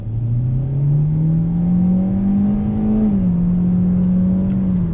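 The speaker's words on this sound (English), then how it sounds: "We're going to do a little bit of an acceleration test." A 2021 Hyundai Elantra Limited in sport mode accelerates hard from inside the cabin, its engine note climbing steadily in pitch for about three seconds, dipping briefly at a shift, then droning on loud and close.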